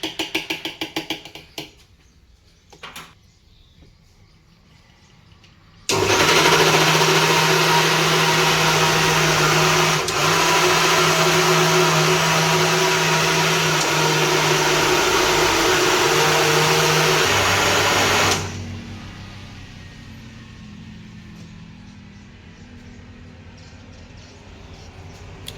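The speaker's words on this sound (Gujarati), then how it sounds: "ચટણીની ગ્રેવી મિક્સરમાં આપણે કાઢી નાખી છે" Electric mixer grinder blending tamarind and date chutney, a loud steady whirring drone that starts abruptly, runs for about twelve seconds, then cuts off to quiet.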